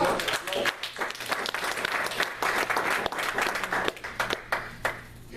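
A church congregation applauds in praise, dense and lively clapping that swells and dips over several seconds, with voices mixed in among the claps.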